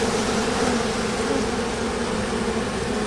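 Honeybees buzz densely and steadily around an opened hive during a spring inspection, a close, continuous droning swarm with no talking.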